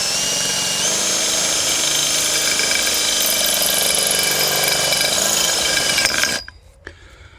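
A power drill bores steadily through material for about six seconds, a constant grinding whine, then cuts out abruptly as the bit breaks, leaving near silence.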